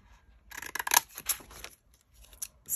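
Scissors held upside down snip through paper from a 6x6 craft pad to shape tag edges, making a series of crisp, close cuts with brief rustles between them.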